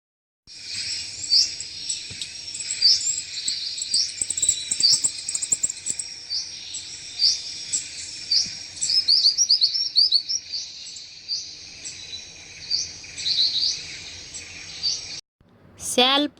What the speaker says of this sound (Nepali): रानी चरी